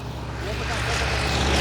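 A propeller airplane drones steadily and loudly as people prepare for wing walking in Washington State, its rumble rising slightly over the short span, with a voice talking over it.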